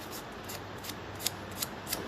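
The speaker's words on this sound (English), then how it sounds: "So if the sandpaper will do it, well and good." Sandpaper rubbed on a heavy metal connection of a Massey Ferguson 35 tractor, a series of short, raspy scratching strokes in an irregular rhythm, close but quiet against a low background hum.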